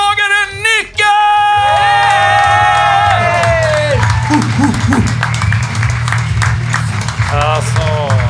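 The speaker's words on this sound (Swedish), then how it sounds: "En stor applåd för plåtslagaren Nicke!" A live podcast audience cheers, whoops and applauds loudly for a guest, a sheet-metal worker, in a packed room; the crowd noise is dense and sustained, with shouts and tonal calls over steady clapping.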